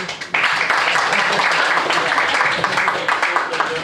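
Audience applause for volunteers at a magic show, a sudden dense burst of clapping that starts a moment in and stays loud and steady throughout, with no talk over it.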